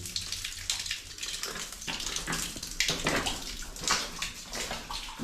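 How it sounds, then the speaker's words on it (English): Water runs and splashes out of a quartz vein inside an old gold mine tunnel in Karangahake Gorge, New Zealand, a steady nearby trickle and gurgle with echoing drips and no talk. "Water flowing down right out of the quartz here."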